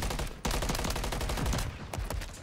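Rapid automatic gunfire bursts in a Call of Duty collegiate esports match, with dense, close rattling shots running almost continuously for a couple of seconds.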